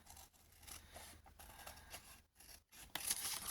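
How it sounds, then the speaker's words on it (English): Scissors trimming paper scraps into journal cards: a quiet, close series of short snipping and sliding cuts, several blades closing in quick succession with brief pauses between them. "Just going to trim these up"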